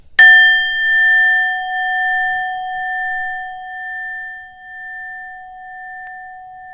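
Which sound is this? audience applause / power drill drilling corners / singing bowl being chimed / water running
singing bowl being chimed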